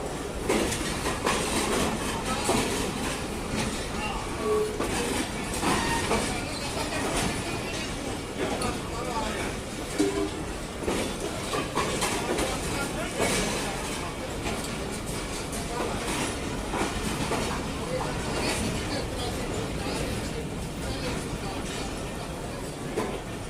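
The Sir Syed Express passenger train pulls out behind a ZCU20 diesel locomotive, a loud, steady rumble with rhythmic clickety-clack of wagon wheels rolling past throughout.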